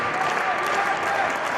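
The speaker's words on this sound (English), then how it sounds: "Crowd now starting to get behind Ray Horace here." A wrestling crowd at an AIWF show roars and applauds in a dense, continuous wash of cheering that holds steady throughout without pause.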